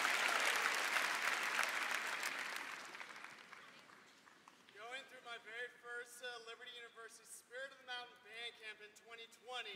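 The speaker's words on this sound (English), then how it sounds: "everybody, applaud that" Crowd applause at a university convocation, broad and loud at first then fading over several seconds as a voice takes over and continues speaking.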